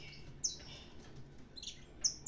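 Canary, a domestic Brazilian land canary kept with a female, gives a few brief high chirps, close and fairly quiet, spaced out over low background noise.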